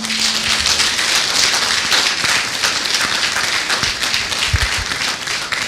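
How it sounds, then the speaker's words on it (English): Clapping from an audience at a Nigerian election debate town hall, a continuous loud patter of many hands with occasional low thumps, sustained without a break. "applaud these gentlemen"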